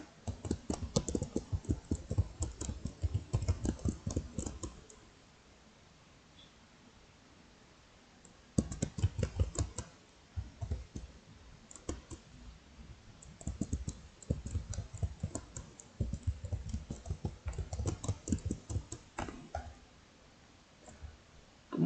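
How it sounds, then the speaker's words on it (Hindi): Quick keystrokes on a computer keyboard as an address is typed into a DJ booking website form. The typing comes in close bursts of rapid clicks, with a short pause in the middle and no talking. "एड्रेस डालने के लिए यहाँ पे टाइप कीजिए"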